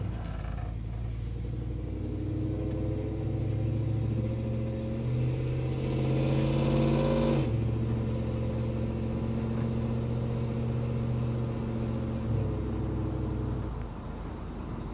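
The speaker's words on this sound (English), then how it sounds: "The exhaust is a Flowmaster. Hopefully that kind of comes through. It's got a nice throaty sound, a little aggressive when you accelerate hard" A 1965 GMC Suburban with an LS engine swap and Flowmaster exhaust pulls away and accelerates, a steady throaty rumble that swells toward the middle, drops briefly, then carries on at a constant cruise, close and loud with no talking.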